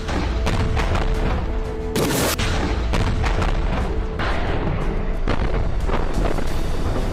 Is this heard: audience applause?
no